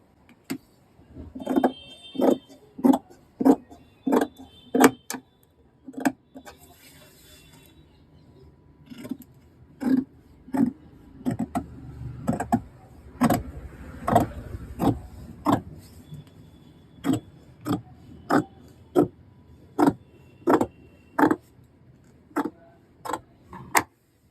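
Scissors cut through slim fit pant fabric in a long run of sharp, evenly spaced snips, close and crisp, with short pauses between strokes.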